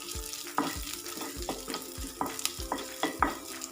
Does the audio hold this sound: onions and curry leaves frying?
yes